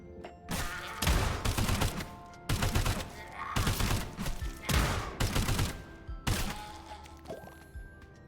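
Video game gunfire comes in dense, loud bursts, each rapid rattling volley lasting about a second with short gaps between, seven or so bursts in all.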